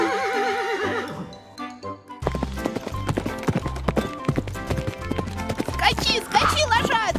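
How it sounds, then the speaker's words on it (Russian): A toy horse gallops with a quick, rhythmic clip-clop of hooves and a whinny, set against playful, bright musical tones in a children's toy adventure. "Скачи, скачи, лошадка!"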